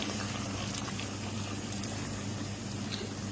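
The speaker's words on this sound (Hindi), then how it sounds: "गर्म पानी इसमें शामिल कर रहा हूँ मैं।" Hot water poured into a pot of mutton for nihari, a steady low rushing pour close by that continues evenly without talk.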